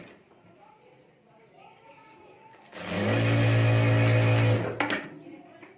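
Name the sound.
sewing machine stitching a zip on a fabric bag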